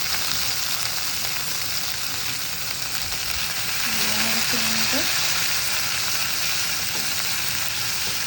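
Onions frying in hot oil with garlic paste in a home kitchen, a steady close crackling sizzle that runs throughout, with a few brief tonal squeaks midway and no talk.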